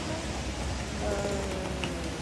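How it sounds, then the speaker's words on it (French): Steady rain patters on surfaces outdoors as a constant, dense wash of noise, with no breaks and no talking. "sous la pluie."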